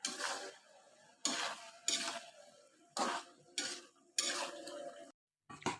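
Jackfruit and potato curry stirred in a pan, a spoon scraping and sloshing through the thick mixture in several loud close bursts with short pauses between, a faint sizzle underneath.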